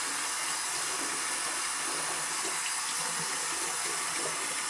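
Water runs steadily from a tap into a bath, a constant close hiss and splash with no pauses and no talking.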